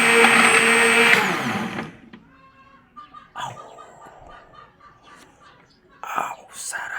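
A blender whirs loudly on its high setting while making a buko (young coconut) shake, then cuts off after about two seconds; faint voices and clinks follow in a quiet kitchen.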